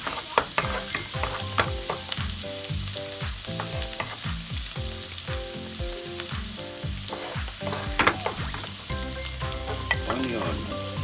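Garlic, onion, ginger and spring onion frying in a pan with a steady loud sizzle, broken by frequent scraping stirs that come in a quick, uneven rhythm throughout.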